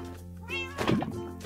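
A cat meows in a Minecraft game, the calls rising and falling clearly over a steady low game background hum.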